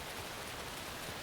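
Steady rain in the video game Alan Wake 2 hisses evenly and continuously, a dense wash of falling drops with no other sounds standing out.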